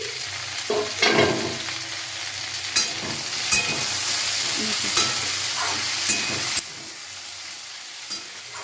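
Drumsticks and potatoes frying in a pan, a loud continuous sizzle close by, broken by occasional scraping stirs and clanks of the utensil.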